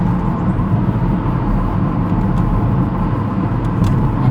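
A car cruising in fourth gear at 60 on a road during a driving test: a loud, steady interior rumble of engine and tyre noise, constant throughout with no changes in pace.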